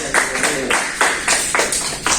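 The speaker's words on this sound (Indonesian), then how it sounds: "terima kasih kelompok 2, beri tepuk tangan" A 12th-grade class claps for a presenting student group in a rhythmic, evenly spaced series of about seven loud, close hand claps in unison.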